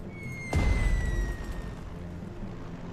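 A single heavy boom from a bombing run in a WWII strategy game set during the invasion of Poland, a sudden low blast that rumbles and slowly decays, with a faint tone lingering behind it.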